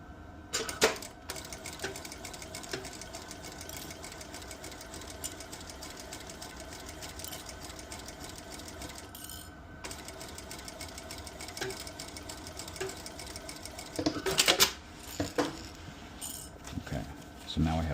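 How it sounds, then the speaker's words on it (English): A coverstitch machine runs steadily along the folded top of a bucket hat, a long continuous mechanical chatter with a few louder clacks near the end, close by, with some quiet talk. "We're going to fold this flat and do a cover stitch on the top"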